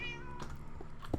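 A tamed cat in Minecraft gives a single drawn-out meow, clear and close, over a steady background hum of game sound with no talking.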